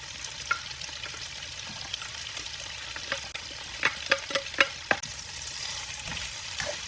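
Garlic and onions sauté in pork's own rendered fat, giving a constant crackling sizzle broken by sharp spatula scrapes and taps against the pan, several clustered near the middle.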